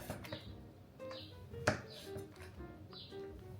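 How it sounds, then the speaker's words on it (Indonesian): Knife cutting through tempeh on a board, a series of soft, close taps spaced irregularly, faint and without voices. "Sekarang kita potong tempe."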